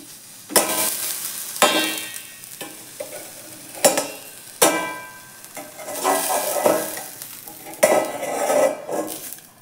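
Pitha rice cakes frying in oil in a home kitchen, soft sizzling under repeated sharp clinks and scrapes of a metal utensil against the pan, spaced a second or so apart.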